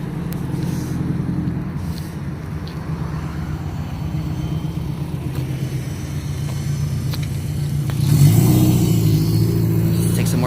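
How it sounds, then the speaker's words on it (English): A Subaru rolls in at a car meet, its engine rumbling steadily nearby and swelling louder toward the end as it draws close, with people talking over it. "We got one car rolling in right here."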